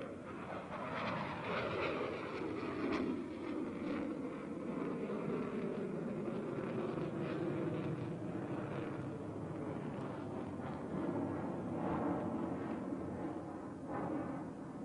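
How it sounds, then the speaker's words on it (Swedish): A Saab JA-37 Viggen jet flies a loop at a 1987 air display in Hässlö, Västerås, Sweden, its engine a steady, distant, rumbling roar that stays even throughout with no voices. "Ner i en looping där flygplanet och föraren har belastats med ungefär 5-6 gånger sin egen vikt."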